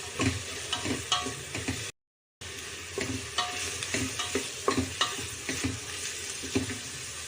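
Onion and curry leaves frying in hot oil with cumin for sambar, a continuous close sizzle broken by repeated stirring scrapes and taps, with a brief dropout partway through and no voices.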